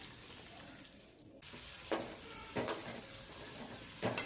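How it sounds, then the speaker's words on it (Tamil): Onions with ginger and garlic sauté in oil, giving a soft steady sizzle. A few sharper stirring scrapes stand out near the end. "இது கூடவே வெட்டி வச்சுருக்க 4 பெரிய வெங்காயத்தை சேர்த்து நல்லா வதக்கிக்கோங்க."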